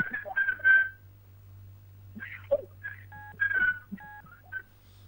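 Telephone tones come through a phone line as short beeping and dialing pulses in uneven bursts, mid-loud over a steady low hum, with brief breaks between them.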